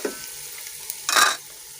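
Two tomatoes and three green chillies hit a hot frying pan for spicy vegetable spaghetti, giving a short, bright burst of sizzling after a quiet moment with a light clink, with no voices.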